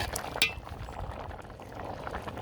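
A pot of vegetable khichuri simmers with a soft, steady bubbling and faint pops, quiet and close, with one small clink near the start.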